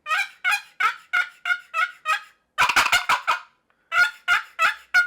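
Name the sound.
turkey box call imitating turkey gobble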